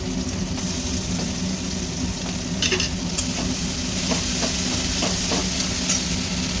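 Ginger paste fries in a pan while cooking an elephant foot yam curry, with a continuous close sizzle and scattered spoon clinks and stirring scrapes.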